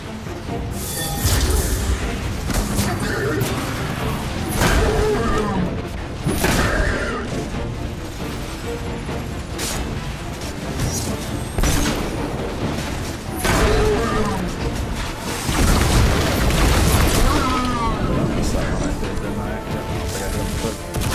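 Destiny 2 combat rumbles with repeated booming blasts and crashes from rocket launcher fire, dense and loud throughout amid scattered shooting, with someone talking now and then.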